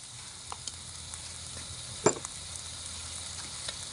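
Stir-frying food in a pan after oyster sauce and seasoning powder go in: a steady, quiet sizzle and hiss with one sharp clatter midway and a few soft knocks.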